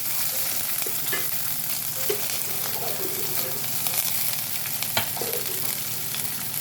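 Chopped onions frying in a pan with oil, a continuous close sizzle with scattered spatters and the scrape of a spoon stirring, steady and moderately loud with no talk.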